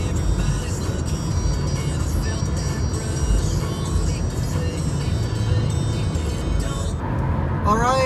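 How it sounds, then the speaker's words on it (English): Heavy highway traffic on I-80 heard from inside a moving car towing toward Minnesota, a continuous low road rumble and tire roar with a passing vehicle near the end. "we're on I-80, and this road has a lot of traffic"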